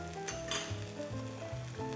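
Onion and mustard sizzle in a frying pan alongside turkey steaks, a steady close crackling hiss with occasional scraping stirs over it, no voices.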